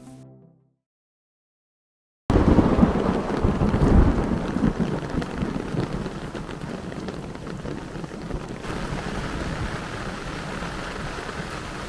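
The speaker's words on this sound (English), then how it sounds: "Countless raindrops fall freely onto the ground, one after another." Steady rain falls on a street after a brief quiet moment, a dense hiss of drops on the ground with low rumbling underneath that suggests distant thunder, continuing evenly throughout.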